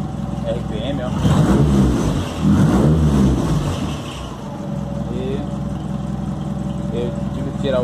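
A tricycle motor runs close by, rising into two strong revs before settling back to a steady hum, while someone talks over it.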